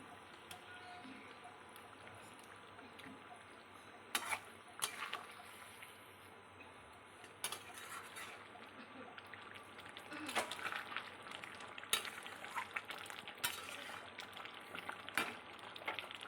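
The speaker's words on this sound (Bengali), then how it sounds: "এবার ঝোল ফুটতে শুরু করেছে" Rohu fish kalia gravy with the fish submerged comes to a boil in a pan, a low, quiet bubbling simmer punctuated by occasional sharper clicks and scrapes.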